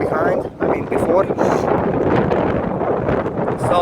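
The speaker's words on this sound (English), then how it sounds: "It's windy, it's cold." Wind buffets the microphone outdoors on a cold, blustery day in San Francisco, within sight of the Golden Gate, making a steady loud roar throughout with a voice faintly mixed in.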